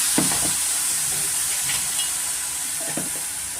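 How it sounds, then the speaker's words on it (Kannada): Grated amla, Indian gooseberry, frying with sugar in a wide pan over a medium flame, giving a steady close sizzle with occasional scraping stirs and no talking. "ಸ್ವಲ್ಪ ಮೀಡಿಯಮ್ ಫ್ಲೇಮಲ್ಲೇ ಸ್ವಲ್ಪ ನಾವು ಇದನ್ನು ಫ್ರೈ ಮಾಡ್ಕೊಬೇಕಾಗುತ್ತೆ"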